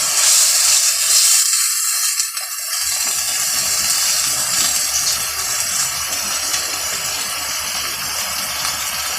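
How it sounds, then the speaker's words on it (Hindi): Water poured into a hot pan of frying garlic masala for a pea biryani, a loud steady hiss and sizzle that fills the whole stretch, close up with no talk. "थोड़ा सा पानी डाल देते हैं ताकि मसाला जले नहीं"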